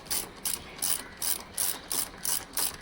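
A ratchet clicks in rapid, even bursts, about six strokes, while tightening handlebar riser bolts on a Royal Enfield Interceptor 650, close and crisp with no talk.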